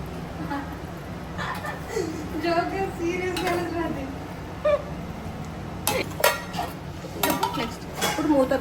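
Metal cooking pots and lids are handled in a home kitchen, giving scattered clinks and clanks, some sharp and close, amid people talking.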